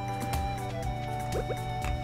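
In the farming game Stardew Valley, a gold-level watering can waters melons, giving a few soft, quick drips and splashes over steady background game music.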